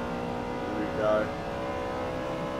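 Race car in Forza 7 holding a steady, droning engine note. The pitch briefly swells and then falls back as the driver taps the brake and shifts into third gear. A faint voice can be heard under the engine.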